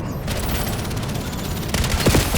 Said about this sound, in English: Establishing sentry turret.